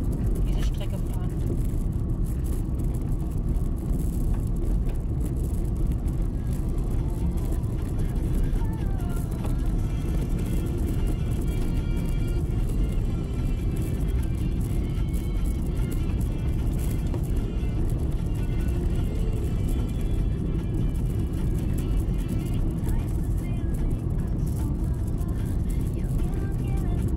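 A car driving a rough gravel road in Finland gives a constant low rumble of engine and tyres crunching over loose stones, heard from inside the cabin for the whole stretch with someone talking over it.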